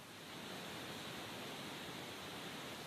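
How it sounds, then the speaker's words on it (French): Water lapping at a spring, a waterfall and rolling waves on the Guadeloupe coast blend into a loud, steady broadband rush that holds even and unbroken throughout, with no voices. "On a le clapotis de la source, de la chute et le rouleau des vagues."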